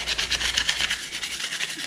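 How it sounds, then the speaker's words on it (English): Painted Ford F150 tow hooks on a supercharged truck are scuffed by hand before painting, a close, loud run of quick back-and-forth rasping strokes in a steady rhythm, with no talking. "I'm gonna start by scuffing them up a little bit."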